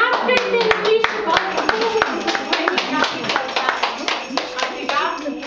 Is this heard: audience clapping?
yes